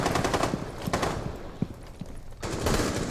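Light machine gun firing in the video game Rainbow Six Siege: rapid sustained bursts of automatic gunfire with a brief pause in the middle, then another burst, fairly loud and close, with no talking.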